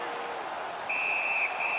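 Referee's whistle at a junior ice hockey game, a sharp, shrill blast entering partway through, briefly cut, then resuming over steady arena crowd noise.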